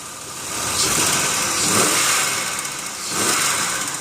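A van engine idling with the hood open, heard up close as a steady mid-pitched hum with a couple of gentle swells in level, no voices.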